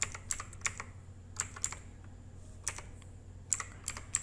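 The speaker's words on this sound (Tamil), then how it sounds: "இப்போ டைப் பண்ணுங்கள்" Keys clatter on a computer keyboard in irregular clusters of quick clicks with short pauses between, close and clear over a low steady hum.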